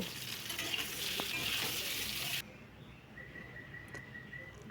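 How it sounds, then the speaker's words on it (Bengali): Potatoes fry in a kadai with a bright, busy sizzle and stirring for a couple of seconds, then the sound drops to a softer, quieter crackle. "আলুগুলো আমি ভালো করে ভেজে নেব"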